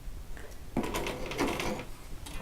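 A hand-cranked sewing machine stitching over a pin while quilting a hexagon block, giving a short burst of faint mechanical clicking and whirring, close and fairly quiet with no talk.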